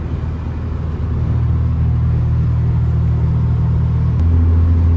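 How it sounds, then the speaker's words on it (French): Toyota GT86 engine cruising steadily at about 2500 rpm, heard from inside the car: a constant loud low drone and road rumble that deepens slightly toward the end, with no talking. "on est à 2500 tours, j'accélère pas"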